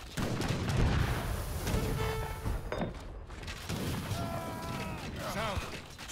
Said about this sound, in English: One of the explosions has revealed another passage.